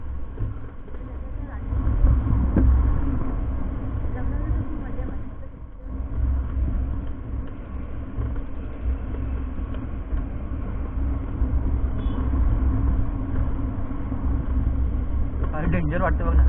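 A car rolls down a steep hill road at night on the way to Matheran, its engine and road rumble running steadily and loud throughout, with a short dip midway and faint rattles near the end.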